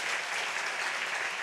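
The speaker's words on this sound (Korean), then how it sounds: "박수로 우리 환영해 주십시다." Steady applause from a church congregation welcoming visiting guests during a Sunday worship service, a brief, even wash of clapping with no voices.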